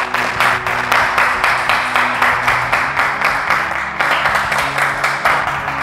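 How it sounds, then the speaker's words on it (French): Audience applauding the winner at a televised African talent competition final, steady clapping in regular pulses over a music bed, loud and sustained. "On peut applaudir pour lui"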